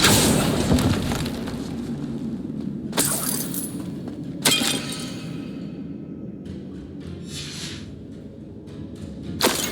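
Depulso force spell cast in Hogwarts Legacy inside a rune chamber, giving sharp shattering bursts at intervals over a rumbling game ambience, with a final pop near the end.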